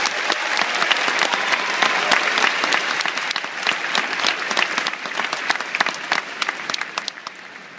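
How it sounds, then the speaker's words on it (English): An audience at a high school graduation ceremony claps for eleven graduating seniors, with steady applause that carries a sharp, crisp texture and holds throughout, easing slightly toward the end. "give them a round of applause"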